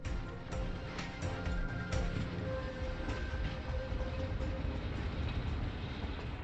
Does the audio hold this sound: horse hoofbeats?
no